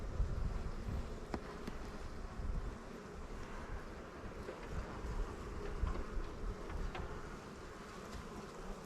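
Dense, steady buzzing of many honeybees at an open hive during an inspection, a close, continuous drone with brief louder passes as individual bees fly near.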